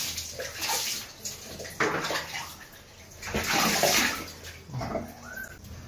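Water splashing and pouring over a dog being bathed, in uneven bursts and gushes at close range, with no talk.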